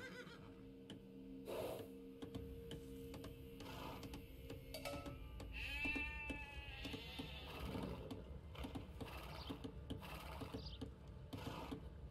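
In the video game Age of Empires II, a sheep gives one wavering bleat amid scattered clicks and a soft game background.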